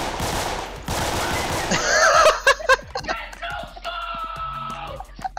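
Video game gunfire rattles in quick bursts and single sharp shots, loud and close, mixed with laughter and voices talking over it.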